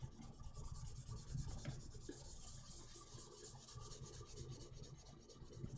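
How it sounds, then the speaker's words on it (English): Hand sanding with finer grit sandpaper over a model kit part, giving a soft, steady rubbing rasp that continues throughout, close and fairly quiet, with no talking. "So now we go back over this thing with a little bit of finer grit sandpaper"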